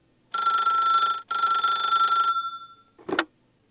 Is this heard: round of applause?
no